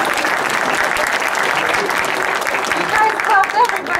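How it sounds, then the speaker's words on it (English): An awards-ceremony audience claps in a steady, dense wash of applause lasting the whole stretch, with a few brief voices rising near the end. "You guys clapped everybody but me."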